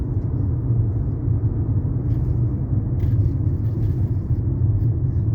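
Low, steady rumble of an old Lada car on the road near Khabarovsk, a continuous engine and tyre drone heard close and fairly loud, without talk.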